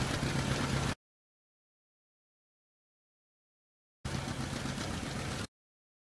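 Tractor engine in Farming Simulator 17, a steady loud mid-range drone heard in two bursts, about a second at the start and again for a second and a half, with silence between.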